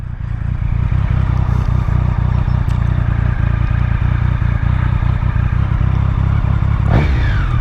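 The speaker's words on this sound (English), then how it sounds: "Like, the video does not do any justice of like how loud this exhaust really is." Loud motorcycle exhaust rumbling close by in a steady, heavy drone with rapid crackling pulses throughout.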